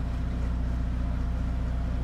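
A motorboat cruising slowly at about five knots on a single engine gives a steady, close, low droning hum with a faint rhythmic throb. No voices are heard.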